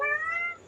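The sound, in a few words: cat meowing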